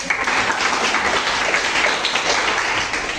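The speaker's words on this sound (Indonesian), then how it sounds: "tepuk tangan" Children clapping together in a classroom after a concentration game, a loud, dense and steady round of applause that fills the whole moment without pause.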